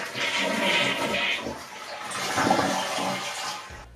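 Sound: toilet flushing and draining before bidet installation

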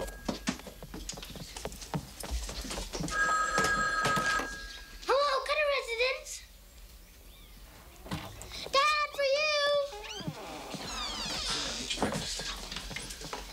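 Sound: telephone ringing

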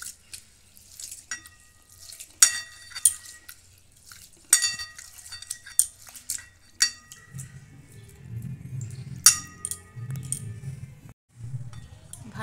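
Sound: washing soaked rice in water by hand

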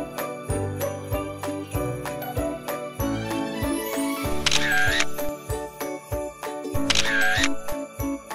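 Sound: camera shutter clicks while taking photos

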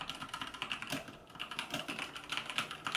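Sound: mechanical keyboard typing

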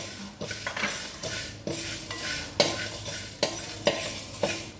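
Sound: cloves and spices being roasted and stirred in a pan

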